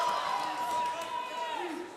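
Loud roaring crowd at an international axe throwing championship, a continuous wash of cheering and whooping with a commentator's voice over it.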